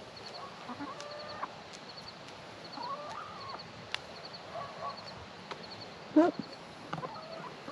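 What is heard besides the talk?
rooster and chickens clucking at farm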